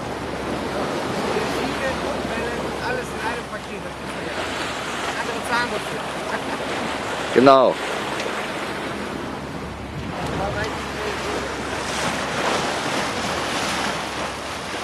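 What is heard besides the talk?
sea waves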